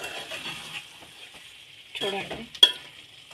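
Chicken liver fries with black pepper in a pan as a soft, low sizzle, broken by a spatula stirring and a sharp metallic clink near the end, with a brief spoken word early on.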